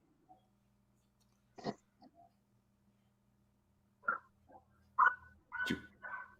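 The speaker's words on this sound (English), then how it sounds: "Wow, he likes to bark." A dog barks in a few short, sharp bursts indoors, with a soft one early, then a louder cluster of barks and whimpery yelps near the microphone over a low steady hum.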